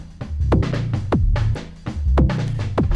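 Electronic music track from a newly released album, with deep pulsing bass notes and sharp descending synth zaps in a driving rhythm, loud and continuous with no talking.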